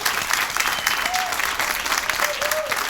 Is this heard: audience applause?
yes